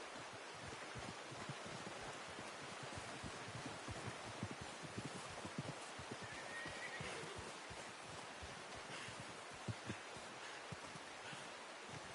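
Faint horse sounds in Red Dead Redemption 2: soft hoof clopping and shifting come through under a steady rustling wash, like rain or leaves, all kept quiet and distant.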